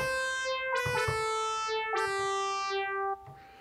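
Yamaha PSS-680 keyboard FM synth tones sound as a few sustained, bright, buzzy notes rich in harmonics. Each note starts with a quick attack, shifts pitch between held notes and ends abruptly.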